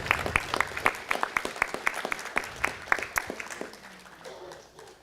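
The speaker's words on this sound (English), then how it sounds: "Let's give them a round of applause." An audience at a city council meeting applauds, giving a burst of dense, close clapping that rises quickly, holds steady and then tapers off into quieter scattered claps near the end.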